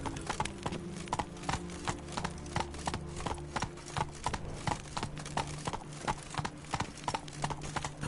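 Roach the horse gallops in a video game, a steady rapid run of clip-clop hoofbeats close by, with low rumbling music and game ambience underneath.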